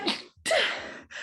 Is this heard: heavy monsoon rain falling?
no